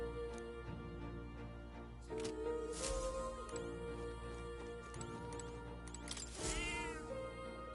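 A cat meows in a Kuro No Kiseki video game scene, several drawn-out calls rising and falling over steady game music and ambience.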